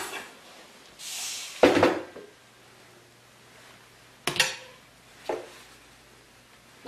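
Ingredients for a fruit croustade's crumble topping are mixed in a bowl, giving a few scattered clinks and scraping knocks of a utensil against the dish separated by quiet pauses, with no talking.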